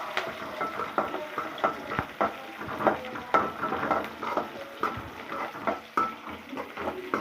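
Onions sauté in a pan until golden for an egg curry, a steady sizzle and crackle beneath repeated scraping and stirring strokes of a utensil against the pan, close and continuous.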